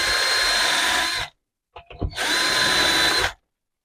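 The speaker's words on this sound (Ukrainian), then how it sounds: "От зараз засверлюся." Power drill boring with a 2.5 mm bit through a self-centering bushing in a hinge-cup drilling jig, in two sustained whining bursts separated by a short pause with light handling clatter.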